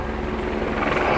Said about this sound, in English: Whoa, but it's a police helicopter.